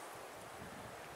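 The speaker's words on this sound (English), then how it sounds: "There's another big gust coming." A gust of strong wind blows along a tree-lined river in Arizona as a soft, steady, broadband rush with a low rumble, fairly faint and without speech.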